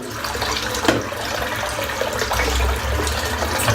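A tap runs into a bathroom sink to refill it for a head shave, a steady close splashing stream with a few brief clunks, no voices present.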